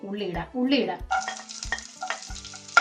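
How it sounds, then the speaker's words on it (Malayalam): Mustard seeds pop in hot oil for a carrot raita tempering, giving a close, crackling sizzle with scattered sharp pops and a few stirring scrapes. "കടുക് പൊട്ടുന്നുണ്ട്"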